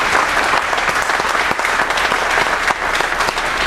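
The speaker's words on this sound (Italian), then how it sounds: "facciamo veramente un grande applauso" A crowd gives the organizers of a football tournament event loud, dense applause, a sustained roar of many hands clapping at once without letup.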